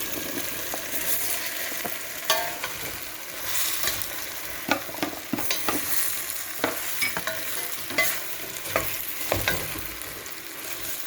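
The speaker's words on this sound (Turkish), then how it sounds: "yaklaşık 10 dakika karıştırıp kızarmaya, kızarmaya, bırakıyoruz" Potatoes sizzle steadily in a pan while a utensil scrapes and stirs them in repeated sharp clinks, close by with no talking.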